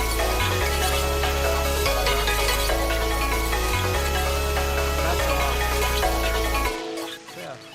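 A textured music loop from a pink sound kit, run through auto chroma, shaper box and EQ, rolls steadily over a pulsing deep bass with a high shimmering layer, then cuts off abruptly near the end.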